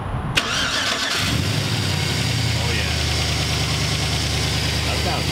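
A pickup truck engine cranks briefly and catches, then settles into a steady, close idle with a low hum, as a voice speaks briefly over it.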